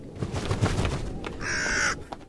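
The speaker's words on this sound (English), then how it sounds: "Oh, crow." A crow in a video game lets out a single drawn-out caw near the end, following a stretch of clattering, shuffling noise.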